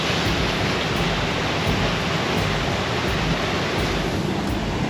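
Steady, dense roar of a waterfall in Newry, Maine, broadband and unbroken, heard close and loud with no other sounds standing out.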